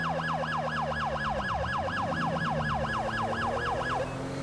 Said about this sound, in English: these sirens are new